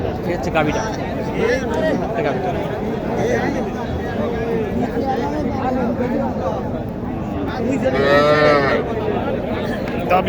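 Cattle moo amid a busy livestock market crowd at Mataji Haat in Naogaon district, Bangladesh, where cows and calves are sold, with a louder, drawn-out moo near the end over steady chatter and speech.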